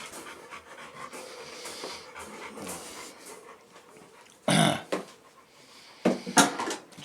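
Dogs pant steadily at close range after a commotion, with soft breathy rhythm, a brief whimper and a few sharp knocks like cupboards or dishes clattering nearby.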